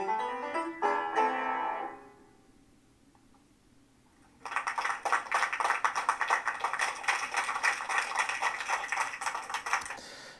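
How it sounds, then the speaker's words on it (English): Virtual audience applause at the end of a piano recital: a crowd clapping loudly and steadily after a quiet pause, following the last notes of piano at the start. "I'm going to move all of that to a little earlier so that the applause is right after the ending"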